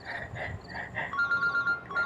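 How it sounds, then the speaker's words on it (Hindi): Telephone ringing in a TV drama, a rapid repeated electronic trill in short bursts, close and fairly loud, with faint voices underneath. "फोन किसका आ रहा है?"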